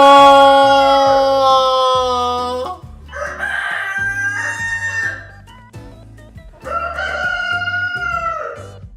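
A rooster sound effect crowing loudly three times, each long cock-a-doodle-doo near and clear, with a steady backing beat underneath.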